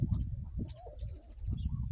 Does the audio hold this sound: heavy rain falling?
no